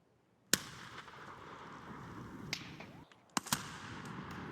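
Grenades burst in Escape from Tarkov, with several sharp cracking blasts scattered over a few seconds and a noisy rumbling wash between them, heard at moderate distance.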